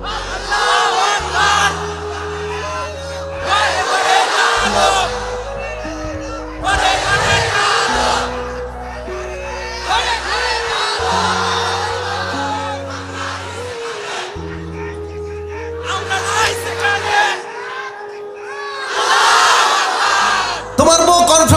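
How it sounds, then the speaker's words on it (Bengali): A large crowd at a religious gathering bellows takbir, with loud, booming group shouts repeated in regular call-and-response waves separated by short gaps, and a single voice leading between them. "জোরে সোরে দাও তাকবীর।"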